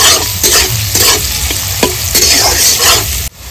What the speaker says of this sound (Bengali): গাজর আমি 2 মিনিট ভেজে নিয়েছি।